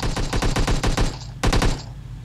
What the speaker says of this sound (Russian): Сдалека из поля стреляют пацанчики